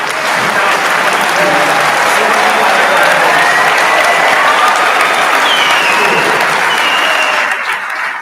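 Loud, sustained applause from an audience at a summa ceremony, dense clapping filling the room for the whole stretch before tapering slightly at the end.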